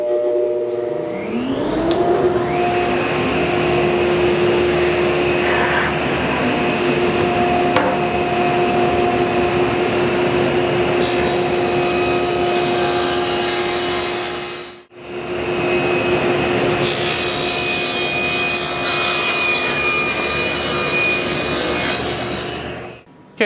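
A table saw rips wood boards to final width, with a loud, steady whine under the cutting noise that runs continuously, drops briefly in the middle, then resumes for a second long cut, with no voices.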